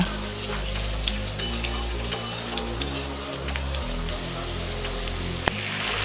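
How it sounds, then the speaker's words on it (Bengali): Potatoes frying in a pan over medium flame with a spoonful of ginger paste stirred in, a dense close sizzle like light rain with scattered stirring scrapes and one sharp knock near the end. "এবারে এই আদা বাটাটাকেও ভালো মতো নাড়াচাড়া করে মিশিয়ে নেবো"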